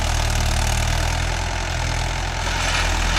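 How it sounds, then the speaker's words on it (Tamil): A Mahindra 575 DI tractor engine idles roughly with a heavy shudder, a steady low throbbing rumble held close and loud throughout, no voices over it. "என்ன அளவுக்கு உதறது சவுண்டு உங்களுக்கு வீடியோவில் கேட்கும்னு நினைக்கிறேன்"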